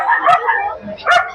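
Small dogs yip and bark close by at a pet market in Grotto, Bulacan, with a couple of short, high, overlapping bursts over a noisy background.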